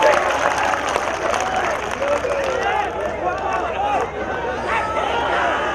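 Audience applause at a mushaira poetry gathering in Pratapgarh, a dense, continuous crowd clapping with cheering and babble mixed in, loud and sustained throughout.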